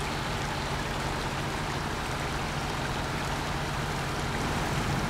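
A truck fords a river in the video game SnowRunner, with a steady rushing wash of water and a low engine rumble underneath, constant and unbroken throughout.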